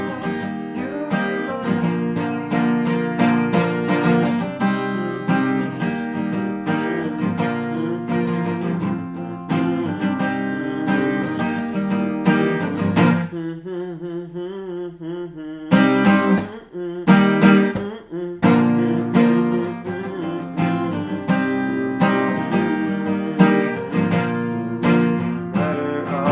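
Electric guitar strums the repetitive chorus chords, with steady rhythmic strumming, a brief sparser sustained passage in the middle, then the driving chords resume, played alone.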